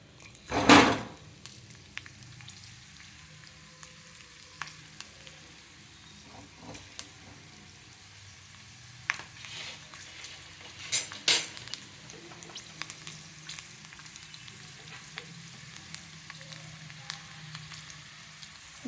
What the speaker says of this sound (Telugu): ఆయిల్ హీట్ ఎక్కాక దీంట్లో ఫస్ట్ వెల్లుల్లి వేసుకుందాం.